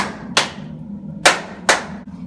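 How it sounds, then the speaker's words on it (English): Sharp, close hand claps ring out at a dragon shrine on Enoshima, Japan: three crisp, separated claps with short echoing tails and quiet between them. "if you make a wish and you clap your hands twice, the dragon will take your wish in"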